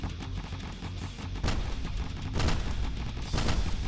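Repeated heavy booming shots from in-game cannons, several loud blasts over a dense, rumbling battle background.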